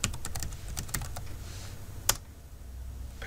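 Quick bursts of keystrokes on a computer keyboard as a username is entered, close and fairly quiet, with one sharper key press near the end and no talking.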